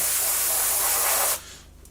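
An airbrush sprays paint onto a 1/32 Trumpeter F-14D Tomcat model kit, a steady close hiss that lasts about a second and a half and then cuts off.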